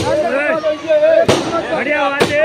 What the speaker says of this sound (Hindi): ये पटाखेबाजी बंद कर दो वहाँ से